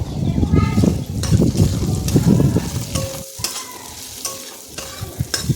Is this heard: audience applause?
no